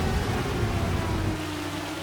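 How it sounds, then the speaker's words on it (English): Steady rain falls during a storm in the Farming Simulator 25 video game, a dense continuous hiss with a low rumbling undertone that thins slightly toward the end. "Now it's just raining."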